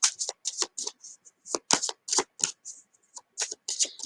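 Oracle cards being shuffled by hand, a brisk series of crisp riffling bursts in an irregular rhythm, close and clear with short pauses between.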